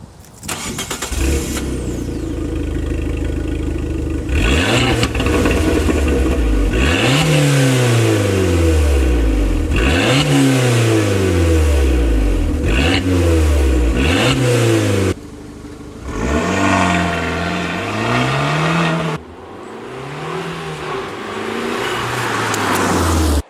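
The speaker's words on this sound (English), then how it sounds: "So that is the stock exhaust, completely bone stock, nothing done to it at all" An Abarth 595 engine with the completely stock exhaust is started and revved repeatedly, each rev climbing and falling away, with a deep, loud exhaust note close by.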